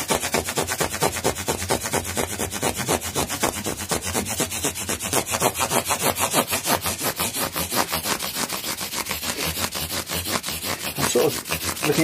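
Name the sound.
sanding and polishing a guitar body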